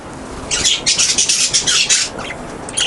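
Three canaries feeding at a fruit platter give a burst of bright, rapid chirps and squawks close up, a busy flurry of high calls that tapers off toward the end.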